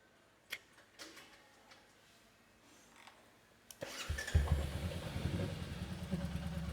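Faint clicks and ticks, then a Royal Enfield motorcycle engine suddenly starts and settles into a loud, steady rumbling idle close by.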